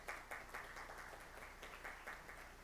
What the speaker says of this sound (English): So a round of applause to the women in the room as well.